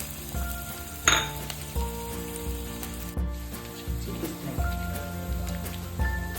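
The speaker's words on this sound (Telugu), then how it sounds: "హీట్ అయినాక ఉల్లిపాయలు, పచ్చిమిర్చి చీలికలు వేసుకోవాలి." Sliced onions and slit green chillies hit hot oil for a chukka kura chicken curry, a sharp burst of sizzling followed by steady crackling and light stirring clatter, close and clear with no talk.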